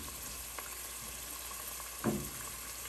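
Green chilies and curry leaves sauté in a pan for a vegan black-eyed bean curry, a quiet steady sizzle broken by a brief utensil scrape and a sharper clatter near the end, with no voices.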